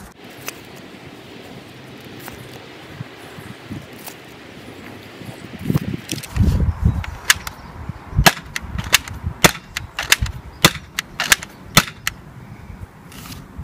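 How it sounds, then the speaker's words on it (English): Nerf Rebelle Secrets & Spies 4Victory blaster being loaded and fired: handling rustle and clatter, then a string of sharp, snappy shots at irregular intervals, close and fairly loud. "loading in the last 4 shots"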